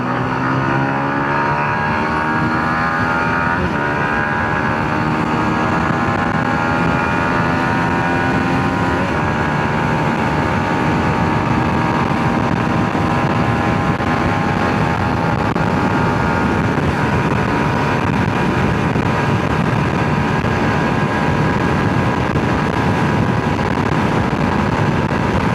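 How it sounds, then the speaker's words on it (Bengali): A Yamaha XSR 155 motorcycle, a 155cc bike, sends out a loud, steady exhaust note with a rich harmonic drone that climbs and shifts in pitch as the engine revs. It runs on its own, with no voices, across the whole stretch. "what a exhaust note bro, একদম মানে মনে হচ্ছে আমি ছোটোখাটো সুপার বাইক চালাচ্ছি"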